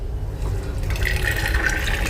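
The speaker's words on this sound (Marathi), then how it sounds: "आता हे गरम पाण्यात ओतते ते" Ground rice being poured into hot water for kheer makes a continuous watery gush with low sloshing, steady and close throughout the short pour.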